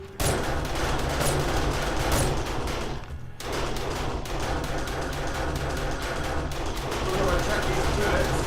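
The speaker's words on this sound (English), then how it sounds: "the turrets seem to be working pretty good" Automatic turrets in 7 Days To Die fire in dense, continuous bursts at zombies during a horde night, a rapid crackling barrage that pauses briefly midway before resuming, with a voice talking underneath.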